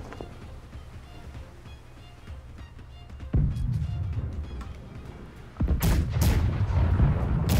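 Ship cannons in the naval combat game Blackwake fire in heavy broadside volleys, two loud booming bursts with rumbling low roar and crackling follow-through, close and dominant over game ambience.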